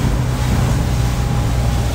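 A Rinker 276 Captiva motorboat engine drones steadily amid loud rushing water and wind on open water, a constant close roar with no pauses.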